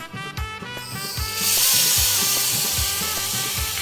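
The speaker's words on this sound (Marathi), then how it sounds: "आता हे गुळ मेल्ट होत आल्यानंतर मी याच्यामध्येच विनेगर टाकणार आहे" Vinegar is poured into jaggery melting in a hot pan, bringing a loud, steady sizzling hiss that swells and holds, with repeated low scraping and stirring knocks underneath.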